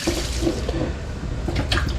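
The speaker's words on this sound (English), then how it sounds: "They go into the cold water." Hot tomatoes dropped into a container of cold water while canning salsa, giving a steady close splashing and sloshing of water throughout with no talk.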